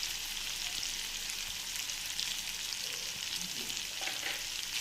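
A salted spice mixture is stirred in a hot pan, giving a steady close sizzle with soft scraping under it, continuous and unbroken, with no voices.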